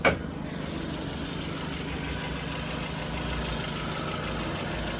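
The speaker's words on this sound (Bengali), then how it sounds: "রানিং ইঞ্জিন দেখেন রানিং ইঞ্জিন" A 2020 Toyota Yaris engine idles with a steady, even hum and a faint mechanical ticking, heard from close by and alone, with no voices.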